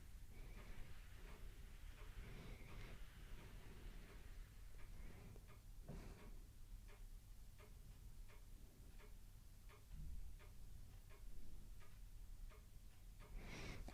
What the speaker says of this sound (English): Can you hear her ticking with her arm?